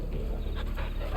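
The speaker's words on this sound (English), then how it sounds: "I can pet the doggy." A pet dog in the video game Final Fantasy XVI pants steadily and quietly under a continuous broad ambient noise bed, with no talk.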